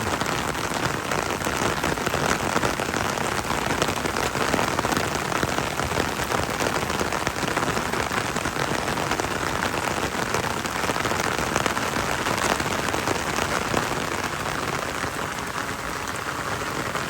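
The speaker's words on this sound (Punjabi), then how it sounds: "ਬੜਿਆ ਮੀਂਹ ਪੂਰਾ ਪੈ ਰਿਹਾ" Heavy, steady rain pours down across open farmland where the rice crop is nearly ripe, a dense unbroken hiss of drops that stays loud and even throughout with no voices.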